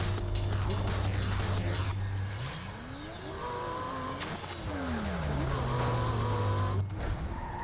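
A Porsche race car in Need For Speed Most Wanted roars loud and close, its engine pitch rising and falling through gear shifts, with tire squeals and skids over a constant driving rumble.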